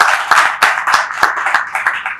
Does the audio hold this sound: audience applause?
yes